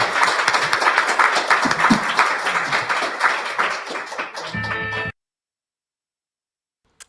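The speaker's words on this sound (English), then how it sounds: "Have you ever heard applause before at an earnings call?" Applause breaks out near the end of a company's live earnings call, a dense wash of many hands clapping that runs steadily for about five seconds, then cuts off abruptly into silence.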